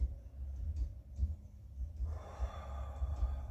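A slow demonstration breath in a guided breathing exercise, soft close airflow with an audible out-breath building near the end, quiet and alone with no talk.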